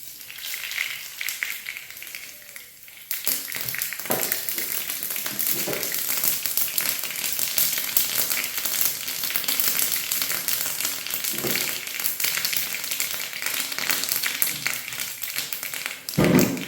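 Mustard seeds and a few fenugreek seeds hit hot oil for sambar: after a quiet start, a dense, continuous sizzle erupts, with sharp scattered pops crackling through steadily and no talking.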